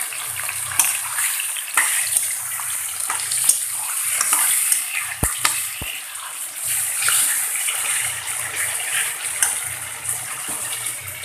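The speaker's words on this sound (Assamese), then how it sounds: "এতিয়া মই ইয়াতে মাংসখিনি দিম।" Local chicken meat frying in a pan with already-fried onions, a steady close sizzle with scattered stirring scrapes and a couple of sharp utensil knocks throughout.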